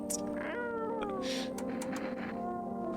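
A cat meows in the video game No I'm Not A Human, giving several drawn-out, wavering cries in close succession over a constant low background hum, loud and near.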